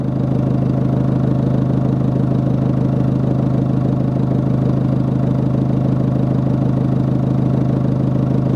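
A car engine with a suspected turbo failure idles steadily and close by, a constant low rumble with no change in pitch and no voices.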